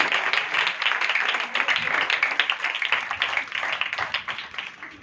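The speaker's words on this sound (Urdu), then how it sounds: "اس کے جلال کے لیے زور سے تالی بجائیں" A church congregation clapping loudly together during a sermon, dense sustained applause close and steady throughout.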